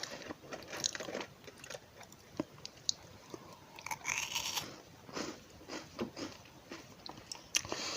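Close, crisp crunching of a small vanilla wafer being bitten and chewed, with sharp irregular snaps and softer munching between bites.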